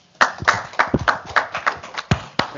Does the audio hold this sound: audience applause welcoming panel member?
yes